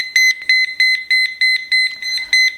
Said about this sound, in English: It's looking for the remote. You see? It's beeping.